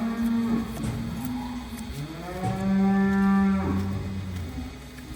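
Cow on a farm during hoof trimming letting out two or three loud, close, drawn-out moos with rising and falling pitch, no talking.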